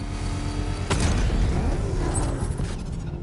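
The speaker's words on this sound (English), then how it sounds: "I can use the power winch to trigger a controlled explosion." A controlled bomb explosion set off with a power winch on a bridge in the video game Batman Arkham Knight, a sudden loud blast near the one-second mark over a dense, steady roar of game noise and rumble that lingers afterward.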